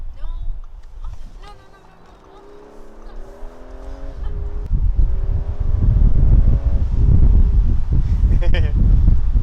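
A 2019 Audi A5 Cabriolet Premium Plus accelerates with a rising engine drone, and heavy wind buffeting builds to a loud rush as speed increases; a voice is heard briefly early on.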